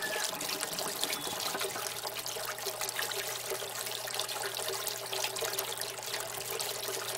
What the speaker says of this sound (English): It's still actually draining very slowly.